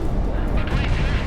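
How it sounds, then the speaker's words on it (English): Aircraft cannon fire in the flight combat game Project Wingman sounds as a dense, rapid rattling burst lasting about a second, loud and harsh, with a voice talking over it. "supposedly me shooting the hitbox of that plane with my cannon"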